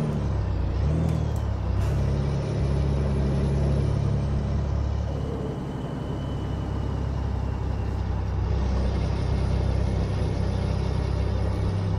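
A heavy truck engine in Euro Truck Simulator 2 drones steadily in a low rumble with a faint whine above, continuous and close throughout with no voices.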